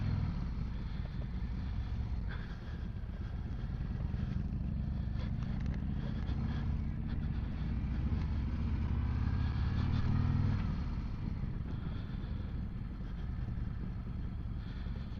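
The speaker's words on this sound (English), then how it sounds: "First demo on a 2024 Road Glide for me." A 2024 Harley-Davidson Road Glide is ridden on a demo ride, its engine giving a steady, close low rumble with road and wind noise that swells slightly midway. No one speaks.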